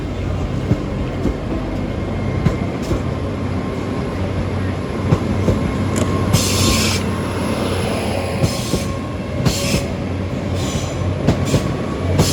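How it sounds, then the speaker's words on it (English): A Great Eastern Railway train heading for Paignton runs through Exeter St Davids station with a continuous loud rumble of wheels, intermittent squeals and clatter, close by, with no talk. "going out now will be the late running Great Eastern Railway service from London Paddington going to Paignton"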